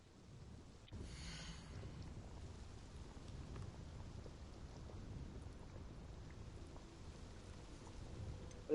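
Rain falls steadily in a Wizard Simulator game scene, with a low rumble of thunder running under a soft, even hiss of rainfall, all faint and continuous.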